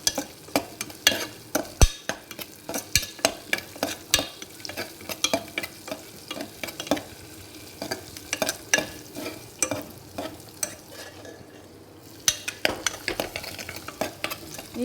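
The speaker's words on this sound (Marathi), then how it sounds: "आपण हे काजू आहेत ना बारीक केलेले ते थोडे फ्राय करून घेऊया" Chopped cashews fry in a pan under a continuous sizzle while a spoon stirs and scrapes in quick, repeated strokes, close and fairly loud throughout.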